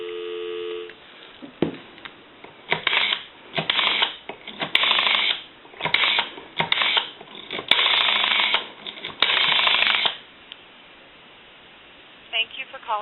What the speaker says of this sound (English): we'll call one other number, give you some dial tone